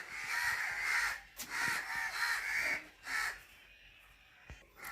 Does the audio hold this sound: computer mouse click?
no